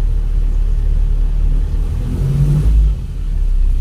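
Taxi driving past on a rainy city street in Iligan City, a loud, steady low engine rumble with road and rain noise throughout, swelling briefly as it goes by close.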